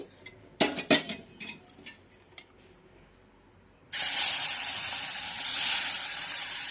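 After a few clinks of a spoon on the pan, milk poured into roasting wheat flour for ladoos sets off a sudden loud hiss that keeps sizzling strongly to the end.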